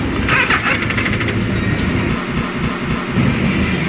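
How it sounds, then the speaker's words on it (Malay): A SYM 250i EVO motorcycle's starter cranks on a weak battery, giving a steady, labored mechanical churning that runs the whole time, close and loud, with no voices over it. "Tu aku dengar tadi starter tu dah macam duk minta-minta tu."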